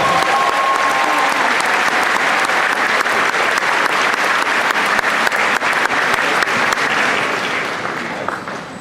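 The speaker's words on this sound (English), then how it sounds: "Let's give them one more round of applause." Loud, dense audience applause at the Fowlerville High School 2026 graduation ceremony, a steady wash of many hands clapping for nearly nine seconds before tapering slightly at the end.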